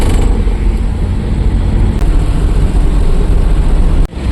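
Steady, loud rumble of traffic on a quiet road in Belapur, Navi Mumbai, with small cars passing continuously close by and a brief dip in noise near the end.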